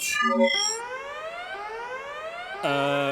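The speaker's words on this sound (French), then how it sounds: "une alarme qui sonne, c'est jamais bon signe" A synthetic video game alarm tone sweeps upward in pitch, repeating with electronic harmonics, loud and alone.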